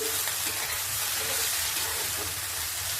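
Onions frying in hot oil in a pan, a steady close sizzle with soft crackles and faint stirring, no talking.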